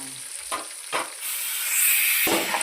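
Vegetables lightly frying in a pan for sambar, a close steady sizzle swelling louder toward the end, broken by a few brief stirring scrapes, with no talk.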